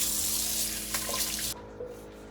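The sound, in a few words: water running from a tap while rinsing a hand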